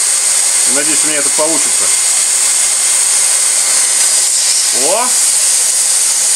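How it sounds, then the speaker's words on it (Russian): A powerful construction heat gun blows hot air at paper, a loud, steady, close roaring hiss through the whole stretch while someone speaks briefly over it. "Фен мощный, я хочу попробовать пожечь бумагу."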